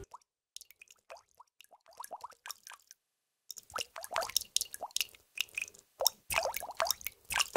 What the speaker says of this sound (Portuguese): você ouve o bom barulho das estalactites pingando água.